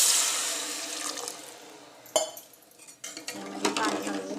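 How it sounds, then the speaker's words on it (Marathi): Water poured into a pan of fried Malvani masala, a loud splash and sizzle at the start fading into steady bubbling hiss, with clinks of a vessel and a second pour near the end. "त्यामध्ये पाणी घालून घेतले 2 तांबी."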